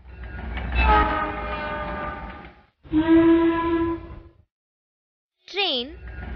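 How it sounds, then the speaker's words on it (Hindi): A train sounds two long, loud horn blasts separated by a short gap, followed by a brief warbling whistle as the rumble returns. "रेलगाड़ी,"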